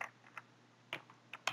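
Keys on a computer keyboard are tapped in a short, uneven burst of quiet, close clicks while a sheet name is typed into a spreadsheet, with faint steady hum underneath.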